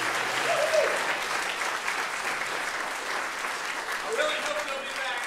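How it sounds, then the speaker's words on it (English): Sustained applause from a community orchestra concert audience, steady dense clapping at moderate volume, with faint voices briefly audible within it. "I do think that deserves one more round of applause."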